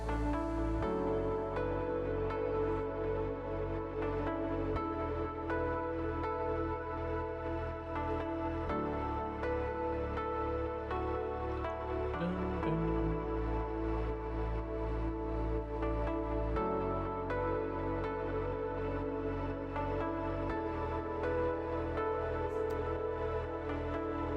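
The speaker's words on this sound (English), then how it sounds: "Drums start to build, builds a little bit of tension." Steady organic house music groove with drums driving underneath sustained synth chords that shift every few seconds, the energy gradually building, fairly quiet throughout.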